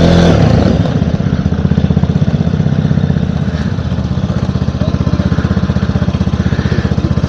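A Vespa S125 scooter engine runs close by with a loud, rapid, rattling putter, holding a steady idle-like rhythm throughout, with no talking.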